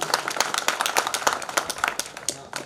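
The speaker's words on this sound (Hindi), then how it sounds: "तो एक बार जोरदार तालियां।" Audience at a Hindi kavi sammelan poetry gathering clapping, a rapid, steady patter of many hands close by, fairly loud and continuous for a few seconds.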